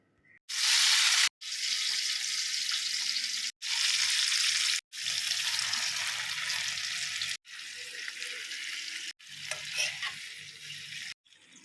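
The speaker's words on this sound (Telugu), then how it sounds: "ఇప్పుడు కట్ చేసి పెట్టుకున్న అరటికాయ ముక్కలు ఈ బాండీలో వేసి వేపుకుందామండి" Raw banana pieces hit hot oil in a pan and crackle into a loud, steady sizzle, broken by a few short pauses as the pieces are tossed and stirred.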